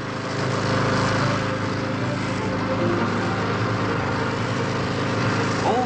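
The rear engines of a 1962 VA-3 hovercraft drive the craft forward during sea trials on the Solent, giving a steady, droning engine roar of moderate loudness with no talking.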